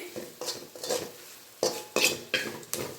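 Spices frying in hot oil for tomato kurma are stirred in a pan, giving a series of close scraping, clinking stirs in a steady rhythm over a faint sizzle, with no voices.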